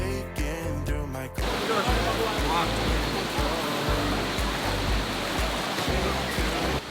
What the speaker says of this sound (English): This beautiful natural-based attraction has a total of 7 waterfalls, which cascades into natural pools